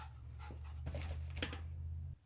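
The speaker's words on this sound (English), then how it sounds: "you gonna start barking?" A dog pants rapidly and close by in a quiet indoor space, a steady breathy rhythm of soft huffs that stops abruptly after about two seconds, with no clear barks.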